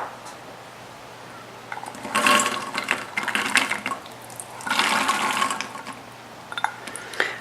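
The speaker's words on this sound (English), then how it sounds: "I've already drained them, and I'm just going to add them about a cup at a time." Drained, soaked beans tip into a pot of water for vegan charro beans in two splashy, sloshing bursts, close and fairly loud with a faint electrical hum between them and small clinks near the end.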